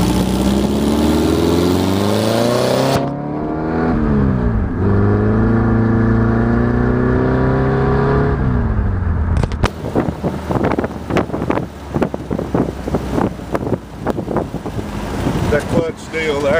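Mini-T dune buggy engine carrying a passenger, its clutch slipping under the extra weight: loud, steady revving that rises and falls, then rougher pulsing acceleration with wind buffeting the microphone.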